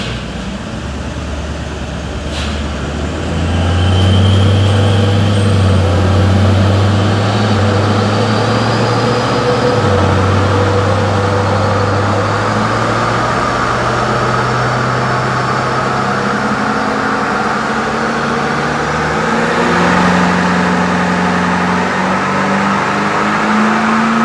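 Toyota Landcruiser 200 Series diesel with +30 injectors and a power mode tune revving hard on a dyno, a loud sustained engine roar climbing steadily in pitch through repeated runs, close up with no speech.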